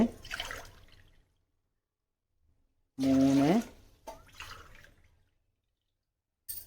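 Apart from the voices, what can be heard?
water poured into a large pot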